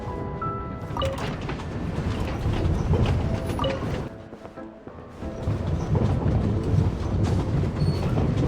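Train rolling along in the video game Genshin Impact, a steady mechanical rumble with rattling and clanking throughout, briefly dipping in the middle before resuming at a fairly loud, continuous level.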